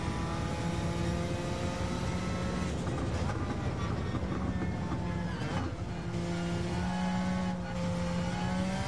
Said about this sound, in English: Under acceleration, we're not braking at the moment.